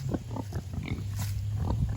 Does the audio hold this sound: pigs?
yes